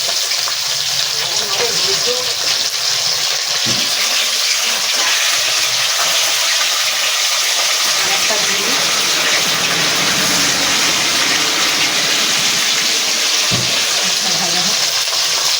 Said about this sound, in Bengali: তেল ভালো করে গরম করি মাছটা ভাজলে মাছটা সুন্দর ভাজাও হয়